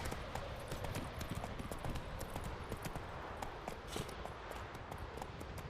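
The horse Roach trotting in The Witcher 3, with rapid, even hoof clip-clops on a hard surface against faint background ambience.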